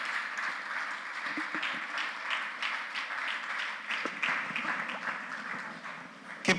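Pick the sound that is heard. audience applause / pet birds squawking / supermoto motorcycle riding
audience applause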